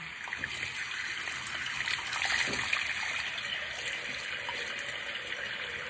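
Hot water runs steadily from a bathroom tap into a sink, a continuous close splashing stream that swells slightly midway, with no talking.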